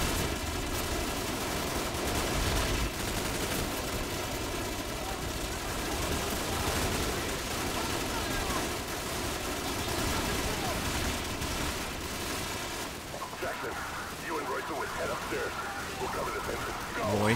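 Night-vision weapons firing during a night mission in a bog in Call of Duty Modern Warfare, with dense crackling bursts of gunfire that run steadily and sound partly distant, mixed with rain-like noise and game ambience.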